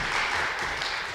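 A church congregation breaks into steady applause to welcome a pastor to the pulpit, a dense, even wash of many hands clapping throughout with no voices over it.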